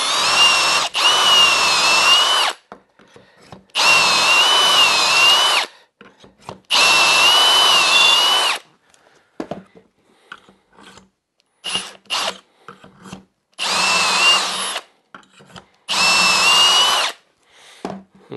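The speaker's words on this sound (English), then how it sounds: "Now to drill the vertical holes, I just need to take it back to its original configuration." Power drill drilling holes into a wooden shelf: loud, close bursts of high whirring, each lasting a couple of seconds, separated by quieter clicks and handling noise, with no talking.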